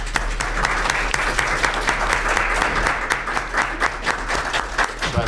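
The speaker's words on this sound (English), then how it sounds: "Let's give these beautiful children a round of applause." A town board meeting audience applauds Girl Scouts being recognized, a continuous round of clapping from a room of people with a low steady hum underneath, fairly loud and unbroken.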